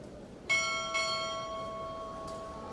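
Two bells are struck in quick succession at a naval chief petty officer pinning ceremony, each a clear metallic strike that leaves a long, fading ring. The sound is soft and somewhat distant, with no talking.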